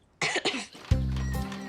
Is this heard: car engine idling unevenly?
no